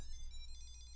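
A Tile tracker clipped to a keyring rings after being triggered from a phone app, giving a steady, fairly faint electronic chime that repeats quickly and continuously with no one speaking over it.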